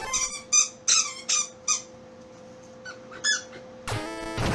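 A dog squeezes a squeaky toy in a run of sharp, high squeaks, five quick ones in a row, then a couple more after a pause, close and loud against a faint hum.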